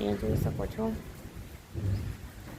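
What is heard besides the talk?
thunder rumbling before rain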